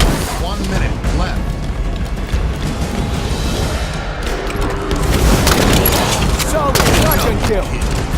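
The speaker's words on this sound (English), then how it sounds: "Shotgun's doing work!" Shotgun blasts in the Halo 5 video game, set inside a dense, continuous wash of game combat noise with explosions and crashes, heavy and loud throughout, with faint voices mixed in.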